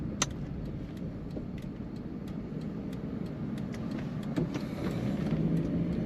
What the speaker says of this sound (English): A very smooth running Jaguar